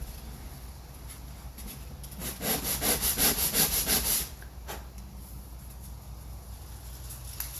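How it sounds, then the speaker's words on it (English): A model rocket part from an Estes Corvette kit is rubbed on sandpaper laid flat on a table, giving a loud burst of quick rhythmic scraping strokes midway through a quiet stretch. "Put your sandpaper flat on your table and just"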